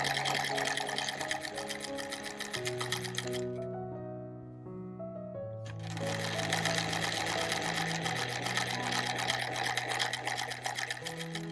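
A Singer 12 sewing machine stitching pin tucks on a blouse made from old curtains, a steady rapid mechanical chatter up close that stops briefly and then resumes at a similar pace.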